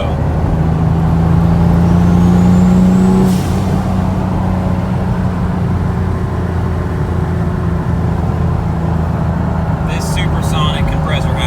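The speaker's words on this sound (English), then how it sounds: "listen to this freaking turbo." A Genesis Coupe 3.8 fitted with a big turbo drives along, its engine droning steadily with a rising turbo whistle early on and a brief hiss near the start, then a continuous road-and-engine roar.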